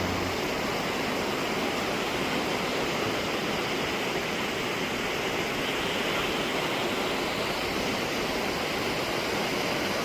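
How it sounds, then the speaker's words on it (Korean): Rushing mountain valley stream water in a Seoraksan gorge in autumn, a dense, loud, continuous roar of flowing water heard up close without a break. "물소리가 들립니까?"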